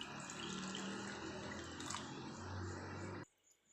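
Water runs steadily from a tap into a cup for rava masala batter, a continuous close gushing splash that stops abruptly near the end, with no speech.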